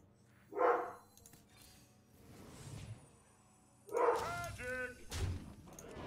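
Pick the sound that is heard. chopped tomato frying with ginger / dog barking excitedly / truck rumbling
dog barking excitedly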